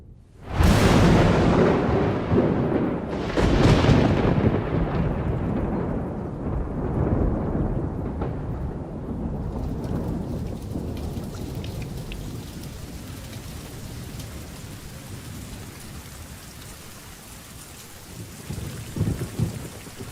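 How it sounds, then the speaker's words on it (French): Thunder rumbles over a marsh in heavy rain: two loud, close cracks roll into long low rumbling, then steady rainfall carries on beneath a fading storm. "L'orage qui gronde n'est pas une menace pour ce milieu"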